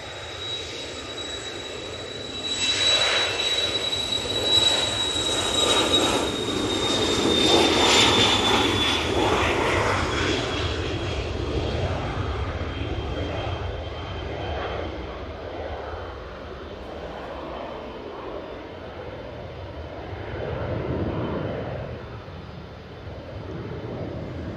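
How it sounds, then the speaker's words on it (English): A Cessna Citation XLS business jet departs from Manchester Airport, its engine roar with a high whine building, peaking mid-pass and then fading slowly into the distance. "that Cessna Citation XLS was a cooler departure"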